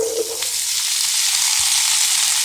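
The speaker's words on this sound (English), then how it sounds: "I'm gonna add in the potatoes." Potatoes for country home fries dropped into a hot frying pan, setting off a loud, steady sizzle and crackle of frying oil that holds close and continuous, with a brief clatter at the start.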